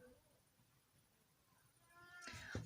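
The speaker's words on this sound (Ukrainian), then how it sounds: "я вибачаюся, якщо буде звук нявкання, там щось таке, в мене тут кішка" A house cat meows indoors, a faint drawn-out cry near the end that rises over quiet room tone, with a soft bump just after it.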